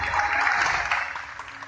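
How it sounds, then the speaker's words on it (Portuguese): Crowd applause for the backstage crew of the Show Velozes, a short, loud burst of massed clapping that holds steady and eases slightly toward the end, with no speech. "Portanto, vamos aplaudir estas feras que merecem o nosso carinho, merecem o nosso respeito."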